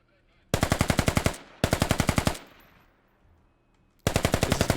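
Rapid machine gun bursts in a military shooter video game, three loud close strings of evenly spaced shots with short gaps and a fading tail between them.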